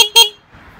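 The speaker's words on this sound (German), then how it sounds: "Hupe." The horn of a Saxxx electric roadster gives two short, loud, tonal beeps in quick succession, followed by a faint low rumble.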